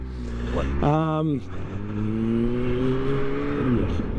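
A 2023 Kawasaki ZH2 motorcycle with a Scorpion Circuit exhaust revs near the listener, rising sharply in a quick burst and then settling into a steady, droning engine tone.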